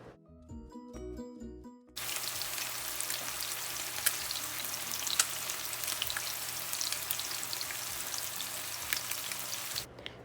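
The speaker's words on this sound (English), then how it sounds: "So I'm adding the fish to my cast iron skillet and this is on medium heat. Now I'm gonna fry it for about 4 to 5 minutes" A basa fish fillet fries in a cast iron skillet over medium heat, a loud, dense, crackling sizzle that starts abruptly after a short burst of tonal beeps and runs on steadily before cutting off at the end.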